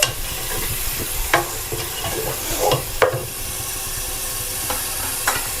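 Chicken pieces frying in a pan with yogurt stirred in, a steady close sizzle and hiss broken by several sharp scrapes and clinks of stirring, no voices.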